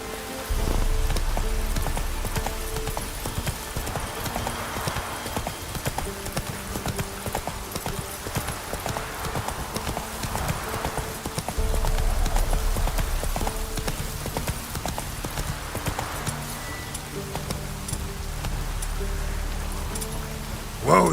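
Hooves of Roach, Geralt's horse in The Witcher 3, galloping in a steady rapid clip-clop rhythm close by, with a brief faint voice near the end.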